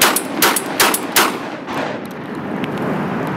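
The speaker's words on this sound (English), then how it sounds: "Obviously Smitty's shotgun doesn't reach out to 250 metres." Shotgun fired at ducks outdoors in New Zealand, four loud booming blasts in quick succession close by, each with a rolling echo, then a fading open-air rumble.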